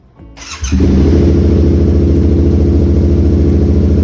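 A Yamaha MT-07 motorcycle fitted with a new lithium battery cranks briefly and fires up, then settles into a loud, steady, close idle.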